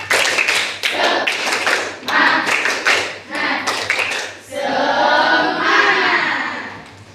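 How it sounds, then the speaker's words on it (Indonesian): A classroom group performs a rhythmic spirit clap, bursts of sharp hand claps in a patterned beat followed by a longer stretch of collective clapping, close and loud, with some voices mixed in. "Yang sebelumnya tepuk semangat."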